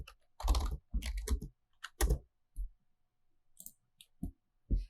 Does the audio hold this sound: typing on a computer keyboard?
yes